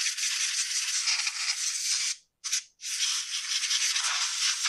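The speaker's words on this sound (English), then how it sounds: "we'll just do a little bit of maintenance here and clean some of this sawdust out." Sawdust being cleaned out of a Husqvarna 353 chainsaw during maintenance: steady, close brushing or scrubbing strokes, broken by two brief pauses, with no talk.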